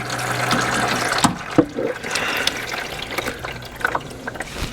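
Engine oil, about two quarts, drains from a Coleman Sector 550 side-by-side into a pan with a steady close trickle and splash, broken by a few sharper drips and knocks.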